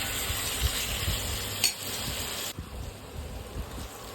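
Sambar masala and boiled drumsticks stirred together in a cooking pot, with a steady scraping stir and a soft sizzle running through, close and continuous, with no talking.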